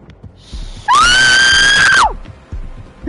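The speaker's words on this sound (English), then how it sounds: "I did not mean to scream at the top of my lungs" One person screams at the top of their lungs, a loud, close, piercing shriek lasting about a second that rises and then falls away, with quieter background noise before and after and no talk.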